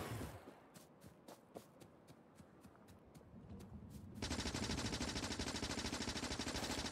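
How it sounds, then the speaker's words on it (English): In the video game Factorio, gun turrets fire at biters, starting as scattered sharp shots and then becoming a dense, continuous rapid-fire burst that stays loud to the end. "it's effective with the turrets that close because they just blast anything"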